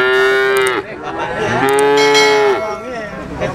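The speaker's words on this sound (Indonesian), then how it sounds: "Ini sapi betina guys" A young cow lows loudly and close at a cattle market in Yogyakarta, giving two long, drawn-out moos with a short break between them and no talking over them.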